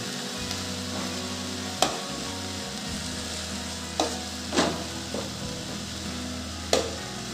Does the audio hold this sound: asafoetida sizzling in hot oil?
yes